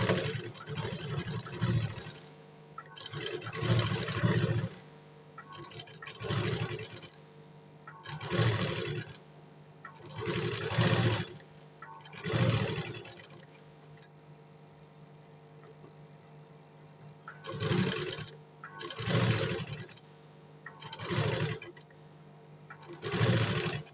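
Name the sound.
sewing machine stitching a blouse back neck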